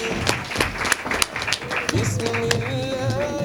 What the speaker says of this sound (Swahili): Ni makofi na vigelegele.